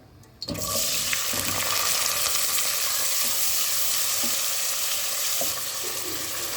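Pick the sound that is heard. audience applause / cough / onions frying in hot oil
onions frying in hot oil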